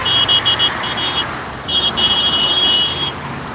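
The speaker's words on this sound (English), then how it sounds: "You hear all those horns honking?" Car horns sound on a busy city street during a flag-waving rally in the Twin Cities: steady high-pitched blaring notes that stop and start over loud traffic rumble.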